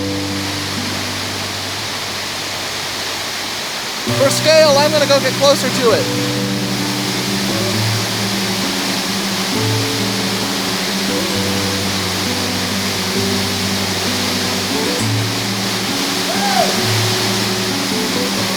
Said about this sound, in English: And there it is, the majestic Middle Falls of the Little Mashel River.